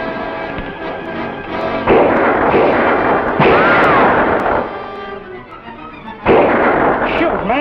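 Gunfire and heavy blasts crash through a western movie scene, loud booming shots overlapping with echoing rumble and tonal score.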